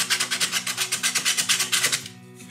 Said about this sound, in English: Now I can clean it up a little more with sandpaper,